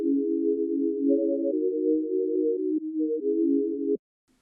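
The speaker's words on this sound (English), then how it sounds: "I have chill chords here coming from Serum, and they sound like this." Soft sine-wave chords from the Serum synth play a slow, mellow progression of held notes changing every second or so, clean and quiet, then stop abruptly, with no talking.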